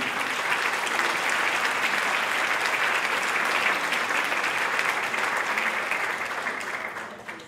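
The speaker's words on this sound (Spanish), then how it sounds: "Parece fuerte aplauso" A church audience applauds strongly at a service, a loud, continuous wash of many hands clapping that holds steady and then tapers off at the end.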